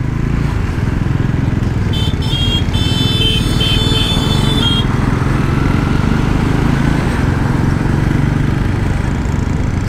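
A Bajaj Pulsar NS400Z motorcycle, a 2024 model, rides at low speed through city traffic, its steady engine drone loud and close throughout, with a brief high-pitched horn or whine from other traffic early on and no talk.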